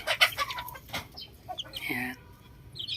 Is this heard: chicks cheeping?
yes